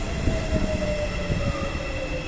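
A train rumbles steadily nearby with rhythmic wheel thumps over the rails and a sustained tonal whine riding above the rolling noise, no voices heard.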